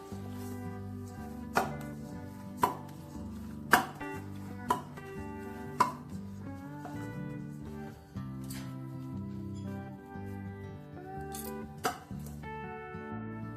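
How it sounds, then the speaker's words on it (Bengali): Flour dough being cut into small portions on a board for cauliflower patties, with about eight to ten sharp knife taps spread unevenly over a quiet background. "দেখুন লেচিগুলো আমি এই মাপের করে কেটে নিলাম।"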